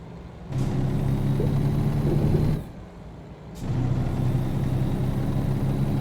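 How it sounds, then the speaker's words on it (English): A train in American Truck Simulator rumbles past with a steady engine drone and a brief hiss like air brakes, the noise dipping and then returning. "oh, that's a train. I thought that was a semi-truck"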